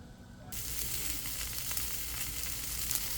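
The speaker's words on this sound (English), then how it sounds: "while that steak is cooking" A NY strip steak sears on a Blackstone griddle, a loud, steady frying sizzle that swells up suddenly after a quiet half-second and then holds a dense crackle with no one talking.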